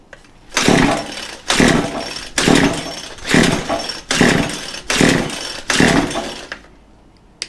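A weed eater engine is throttled up in six repeated bursts, each a loud buzzing rev that rises and then drops back toward idle, with short pauses between them.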